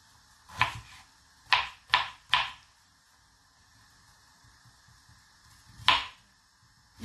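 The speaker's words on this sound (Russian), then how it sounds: "Поэтому я всегда нарезаю мелким кубиком." Knife dicing potatoes into small cubes on a cutting board for sorrel soup, several isolated sharp chops in a loose irregular rhythm, close and fairly quiet with pauses between strokes.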